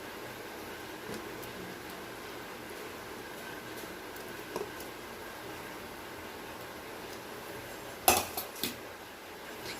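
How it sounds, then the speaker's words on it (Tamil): Fried chicken balls are added to a pot of gravy for chicken kola urundai kuzhambu and stirred, giving a few sharp metallic clinks of utensil against pot near the end over a faint steady background hum. "இப்போ இதில் நம்ம ஃப்ரை பண்ணி வச்ச சிக்கன் பால்ஸ் எல்லாம் சேர்த்துக்கலாம்."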